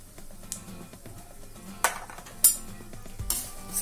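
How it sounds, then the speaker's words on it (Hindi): Khandeshi-style chiwada stirred in a pan with a little leftover oil after frying corn poha, mixed with sugar, red chili powder, garam masala and turmeric: quiet scraping broken by a few sharp metallic clinks of a spoon against the pan. "सारी चीजों को अच्छे से मिक्स कर लेंगे।"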